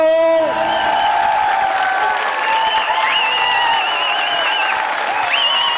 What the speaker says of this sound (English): Crowd bursted, shouting, screaming